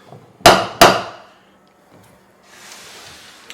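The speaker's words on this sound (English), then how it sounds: "Look at this knocker here." Two sharp metallic knocks from a hand-rubbed bronze door knocker striking a thick white ash door, close and loud with a ringing decay, followed by quieter rustling.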